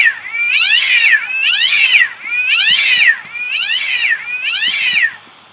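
Cat-like meowing from a Heliodrosaurus creature in a Terraria mod: five loud, close, drawn-out meows in a steady rhythm, each rising and falling, with no talking.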